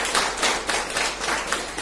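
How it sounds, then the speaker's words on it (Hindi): A group of people, gathered at an insurance branch office meeting, clap for themselves in a short burst of fairly loud, rhythmic applause with evenly spaced claps and no talking. "एक अपने लिए ताली बजाइए।"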